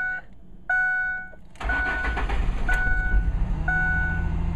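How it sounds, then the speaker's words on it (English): A 2006 Ford F150 warning chime dings steadily in short repeated tones, first in near quiet, then over the truck's engine cranking to life and running at a loud, close idle. "I hate that dinging noise because it makes it impossible to hear things."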